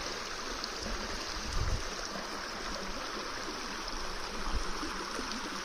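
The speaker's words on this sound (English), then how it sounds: "Listen to that brook." A steady, continuous rush of Franklin Creek flowing, close and even throughout, with a couple of faint low thumps; no speech.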